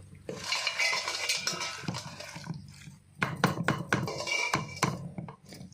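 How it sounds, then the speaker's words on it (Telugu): Homemade tomato pickle being stirred in a metal pot, a busy run of scraping and clinking utensil strokes with a brief pause midway, close and fairly loud with no talking. "ఫైనల్గా ఒకసారి కలిపేసుకుంటే పచ్చడి అయితే కంప్లీట్గా అవుతుంది"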